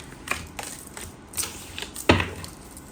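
Tarot cards being shuffled by hand, a handful of quick papery riffles and taps in an irregular rhythm, close and moderately loud, with one sharper snap near the end.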